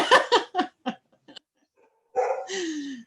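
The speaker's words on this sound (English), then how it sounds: "that's my dog in the background" A dog barks several times in quick succession, then lets out a longer whining yelp, moderately close with no talking.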